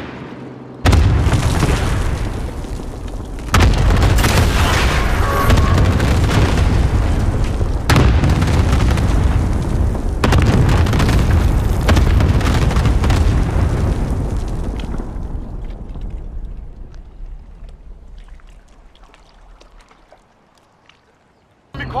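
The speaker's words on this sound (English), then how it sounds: "Cluster strike away." Cluster strike killstreak in Call of Duty: Modern Warfare, a chain of loud, heavy explosions in several big bursts that rumble on and slowly fade into a distant low tail.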